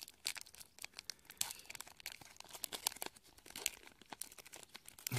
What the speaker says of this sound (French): on va ouvrir le booster.